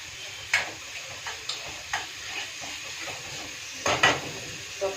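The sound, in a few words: cooking tomato chutney in a pan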